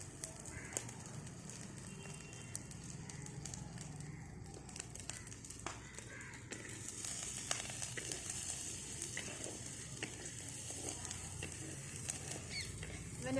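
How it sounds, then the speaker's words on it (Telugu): Mint, ladyfinger and green chillies fry steadily in a pan with a soft, continuous sizzle, broken by faint clicks and taps of stirring throughout. "ఇవన్నీ బాగా గోల్డ్ కలర్ వచ్చే వరకు వేపుకోవాలి, ఫ్రై చేసుకోవాలి."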